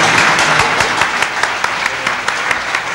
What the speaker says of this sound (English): I'm delighted with the applause from the architect.